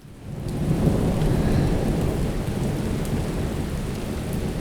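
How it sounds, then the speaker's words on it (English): A steady heavy rain hisses on a rainy afternoon while deep thunder rolls underneath, rising in quickly and holding loud and continuous throughout, with no voices. "Another rainy afternoon,"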